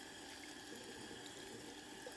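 Tap water running steadily into a sink while vegetables are washed to remove sand, a soft, even hiss with no pauses and no talk.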